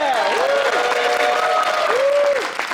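A convention crowd at New York Comic Con applauds, a dense, loud wash of clapping with whoops and cheers, while voices carry over the top throughout.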